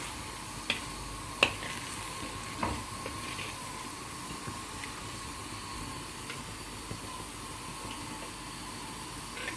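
Scrambled egg frying in a pan while being stirred, a quiet, steady hiss of sizzling with a few sharp utensil taps and scrapes scattered throughout.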